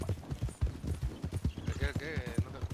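Horse hooves clip-clopping in the RedM (Red Dead Redemption 2) roleplay game, a steady quick rhythm of close hoof strikes running throughout, with a voice talking over them.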